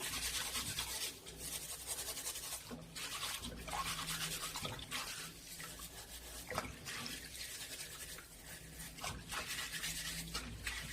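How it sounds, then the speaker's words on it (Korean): Altari radishes scrubbed under water with a new scrubber, a close, continuous rhythmic rasping and rubbing with faint dripping, no talking. "아니면 이렇게 깨끗한 이런 새 수세미로 이렇게 삭삭 씻어 주셔도 되거든요."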